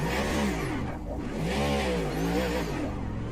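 A race car engine in the AMS2 racing game during an IMSA series race, a loud continuous harmonic drone with pitch swells as it revs and eases off, heard alone without talk.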